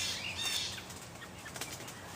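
A big bird bursts from a bush and flaps its wings, a quick flurry of soft whooshing beats near at first, then fading as it flies off in a quiet outdoor setting.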